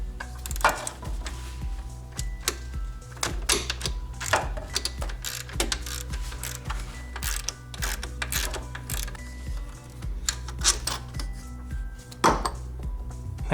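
A ratchet clicks in quick, repeated bursts while loosening a nut on the alternator of a BMW E46 M3, with short pauses and metallic knocks between strokes in a quiet workshop, no talking.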